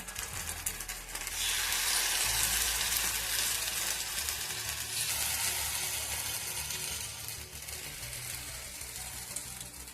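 Appe batter sizzles steadily in a ghee-greased appe pan over low gas, a loud continuous frying hiss with low bubbling that holds for the whole stretch, no voices.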